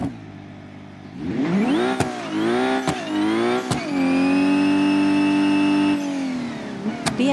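A BMW G77 Mansory engine in the driving game BeamNG.drive starts up and revs, rising and falling in pitch across several gear shifts before holding a steady loud drone, with no talking.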